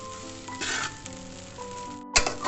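Eggs sizzle in a hot pan while egg fried rice is stir-fried, a steady close frying hiss with scraping stirs and a sharp clatter near the end.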